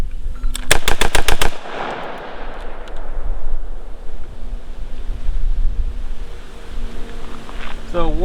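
A rifle fitted with an Anderson stainless steel trigger fires six rapid, loud shots in a tight burst near the start, followed by ringing echo and steady outdoor wind noise.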